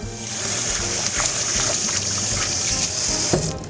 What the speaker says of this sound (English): Then you rinse.